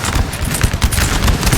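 Rapid, dense crackle of massed musket volleys at point-blank range in a Napoleonic Total War 3 line battle in a forest, loud and continuous with overlapping shots and no pauses.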